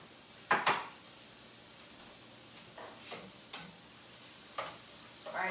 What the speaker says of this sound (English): Just mix together everything well, so the spices get mixed in to all of the onion and garlic.